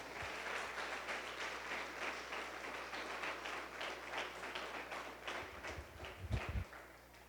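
A church congregation at a New Year's Eve worship service claps steadily throughout, a dense, even patter over a low hum that eases slightly at the end.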